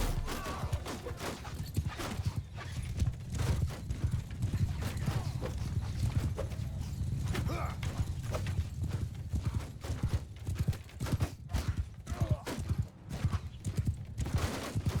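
Horse hooves gallop in Mount & Blade II: Bannerlord, a dense rapid clip-clop drumming that runs throughout, with a horse whinny and faint battle noise mixed in.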